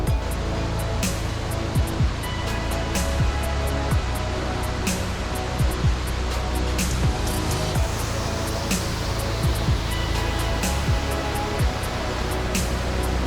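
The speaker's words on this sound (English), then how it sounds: "we come across another waterfall, which is nestled between rocky outcrops" A creek waterfall spills between rocky outcrops on a mountain trail, giving a constant, loud, close rush of falling water with a few brief clicks and taps on top.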